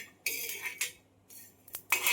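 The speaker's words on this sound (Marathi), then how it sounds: "तुम्हाला आवाज येत असेल, चांगले तडतड आवाज येतोय." Mustard seeds and fenugreek dry-roasting in a hot pan crackle and pop in loud bursts of sizzling, irregular spurts close by with brief gaps between, no voices.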